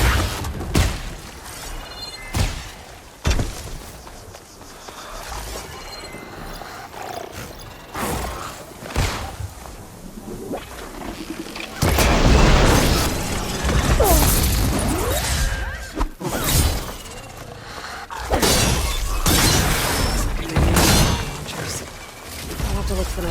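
Enemy mine launchers blowing up in the Horizon Forbidden West video game, with repeated sharp blasts, crashes and whooshes scattered through a busy combat mix, partly under a voice talking.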